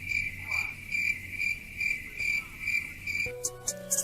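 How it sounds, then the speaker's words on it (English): Crickets chirp steadily in a pulsing, evenly spaced rhythm as a sound effect inside a rap song, filling a short pause before other sounds come in at the end. "Moment of silence, crickets."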